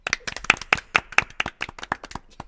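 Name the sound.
people clapping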